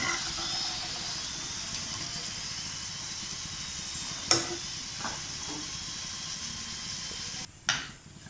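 Stuffed wheat chapathi fries in hot oil with a steady bright sizzle and hiss, broken by a few sharp clinks of a utensil against the pan, no voices.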